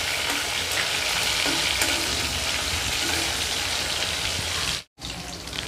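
Rohu fish pieces fry in hot oil with a loud, dense, continuous sizzle and spatter, broken only by a brief gap near the end.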